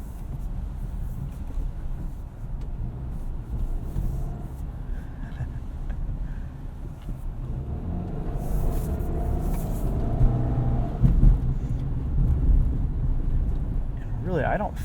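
A 2022 Subaru Outback Wilderness drives on snowy roads at night, heard from inside as a steady low road-and-engine rumble that swells slightly toward the end.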